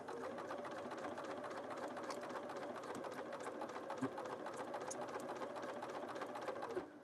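A sewing machine runs steadily and continuously at close range in a craft workspace where fabric scraps are stitched together, its even mechanical whir holding for the whole stretch with a couple of brief thumps.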